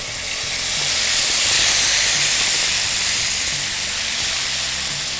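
Onion paste sizzles loudly in hot oil in a pan, a steady bright hiss running throughout with slight swells, cooking base for Kashmiri mutton rogan josh.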